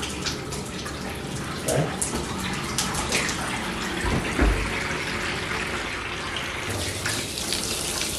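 Water runs steadily from a faucet into a freestanding vessel tub, a loud continuous rushing and splashing throughout, with a brief spoken word partway.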